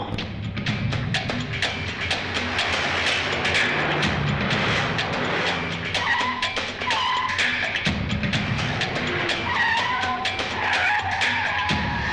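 Car skidding with tire squeal amid a fast action chase scene, then the engine roaring as it speeds away, loud and continuous with no talk.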